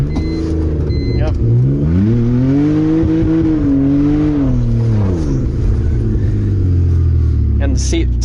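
A BMW E46 with an open header revs hard, its engine note climbing, holding and then falling back in one long loud sweep, with a harsh raspy exhaust close by.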